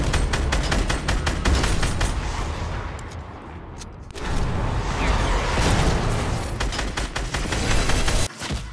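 Rapid gunfire from shooting at Thanos in the Fortnite video game, loud bursts of repeated shots with a short lull partway through and no talking.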